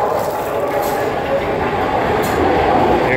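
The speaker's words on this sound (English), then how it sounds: "Here comes a crazy fucking train." A train rolls past on the tracks in Kensington, Philadelphia, a loud steady rumble and rattle of cars close by, with brief squeals over the top.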